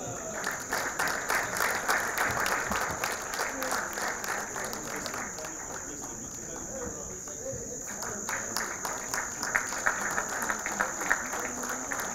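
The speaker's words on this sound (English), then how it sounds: "May we clap for that." A crowd at an official ceremony honouring a late parliamentary Speaker gives sustained applause, fairly faint and distant, with a high steady tone and some voices in the background.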